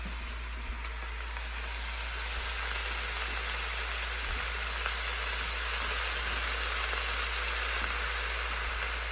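Chicken browning in a hot pan for Tuscan chicken pasta, a loud, steady, close sizzle and crackle that continues unbroken, with a constant low hum beneath it.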